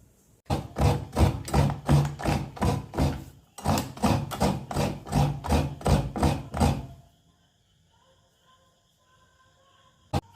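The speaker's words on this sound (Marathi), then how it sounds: "खोबरं ना विळतीवरच खाऊन घ्यायचं तर विळतीवर खाऊन घेतले" Fresh coconut scraped on a traditional vili blade, heard as a quick rhythmic run of rasping strokes close by, a short pause, then another fast series before the sound stops and the room goes quiet.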